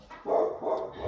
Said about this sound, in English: pardon the dogs, y'all